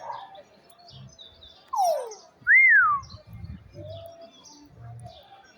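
A parrot at Monsanto Market gives a few clear whistled calls, a falling note and then a rising-falling one, with softer chirps scattered around them over low market murmur.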